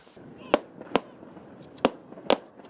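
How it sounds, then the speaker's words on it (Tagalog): Four sharp gunshots fired from a ship on Manila Bay ring out in an uneven series, fairly distant, over a low murmuring background. "Magkakasunod na putok ng baril ang umalingongo mula sa barko"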